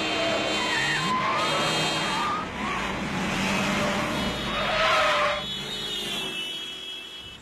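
A car skids to a stop in a scene from the Italian film Marciando nel buio, with loud, close tire squeals rising and falling over engine noise for several seconds before it eases off.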